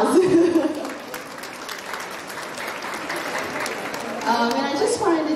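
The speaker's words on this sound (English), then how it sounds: "applause." An audience applauds at the grand opening ceremony of a convention in Chicago, with clapping that swells at the start, settles into a steady roll and rises again near the end while voices murmur underneath.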